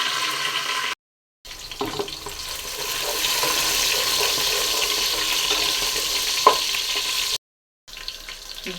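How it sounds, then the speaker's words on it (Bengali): Onions frying with garam masala and bay leaves in a pan give a continuous close sizzle with occasional stirring knocks. Two short silent gaps break it, and there is no speech. "পেঁয়াজটা ভেজে নিচ্ছি, দিয়ে দিচ্ছি সাথে গরম মশলা আর তেজপাতা দিয়ে দিচ্ছি"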